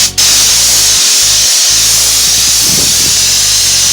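A paint spray gun at about 110 psi sprays Harbor Freight truck bed coating, a loud continuous hiss close by that runs steadily, broken only by a brief trigger release near the start.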